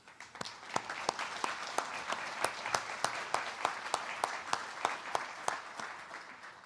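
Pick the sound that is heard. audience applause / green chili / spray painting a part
audience applause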